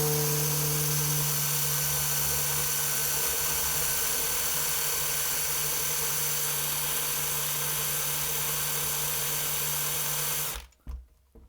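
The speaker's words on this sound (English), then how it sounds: "We resorted to power tools." A power tool drills out a stripped screw on a Dell Inspiron 1720 laptop, whining at a steady, close, sustained pitch for about ten seconds before cutting off abruptly, with a couple of small knocks after.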